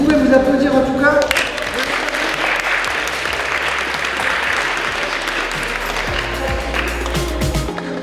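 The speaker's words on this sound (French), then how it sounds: "Vous pouvez vous applaudir en tout cas." An audience claps loudly and steadily for several seconds, a broad dense wash of applause filling the room, with a voice briefly speaking over the start.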